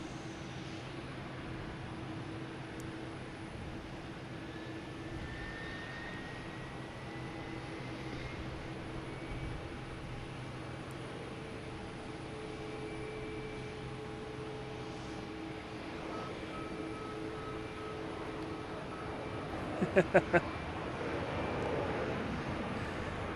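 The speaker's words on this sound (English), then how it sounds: "next coming in is United Airlines, coming in from Newark, 737-900, landing on 4 right" A United Airlines Boeing 737-900 from Newark lands on runway 4 right at Boston Logan, a steady distant engine drone with faint whining tones that holds throughout and swells slightly near the end.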